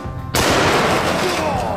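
An elephant gun fires a .50 brass round at bulletproof glass set against a hollow brick, one loud abrupt blast that rings out and decays over the following second.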